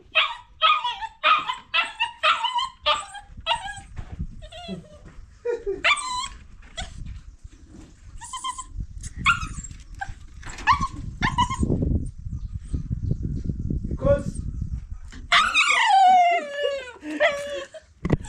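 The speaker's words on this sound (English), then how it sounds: "I'm trying to fight with my dog." A pet dog barks in quick repeated bursts and whimpers close by, with yips and whines over a low rumble of handling noise, ending in a longer high whine.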